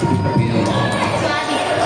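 A crowd of school children claps and cheers loudly and continuously in a school assembly, with shouting voices mixed into dense applause close by.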